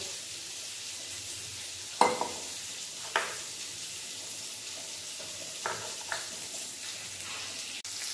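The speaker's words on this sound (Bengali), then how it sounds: "লাউডাঁটা আলু ভালো করে ভেজে নিয়েছি।" Gourd stems and potato pieces fry in a pan with a constant close sizzle, broken by a few sharp clinks and scrapes of a spatula; no talking.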